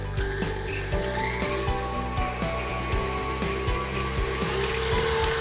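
An electric mixer beats cream, butter and sugar for cookie dough, a steady motor whir with regular rhythmic knocks of the beaters against the bowl, close and continuous with no talk.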